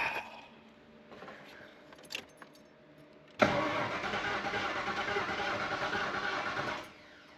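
Car engine cranking right after a new starter was fitted. Quiet shuffling and small clicks come first, then the starter kicks in abruptly and whirs steadily and loudly for about three seconds before cutting off.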